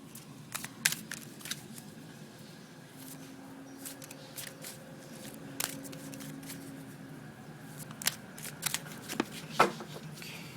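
A deck of guidance cards is shuffled close by, with soft papery riffles and sharp snapping taps scattered over about ten seconds against a faint background hum.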